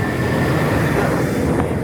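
A roller coaster train runs along the track of the Diamondback ride, a steady loud rumbling roar of wheels on rail with no talk.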